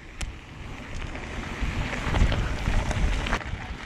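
Strong, steady wind buffets a helmet-mounted camera during a loose mountain bike descent on a carbon 29er, with a low roar and occasional faint clicks and knocks from the trail.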